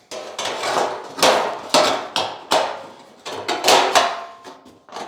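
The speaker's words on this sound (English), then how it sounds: "I need to do a little hammer and dolly work there, smooth it out" Hammer and dolly work on a rotten fender panel of a 1951 Ford: about a dozen sharp metallic strikes in an irregular rhythm, close and fairly loud, with no talking.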